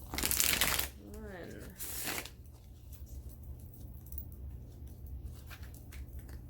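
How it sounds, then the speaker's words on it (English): Quick riffling shuffles of a tarot card deck, a few crisp bursts near the start, followed by a quiet room hum and faint handling. "3 shuffles."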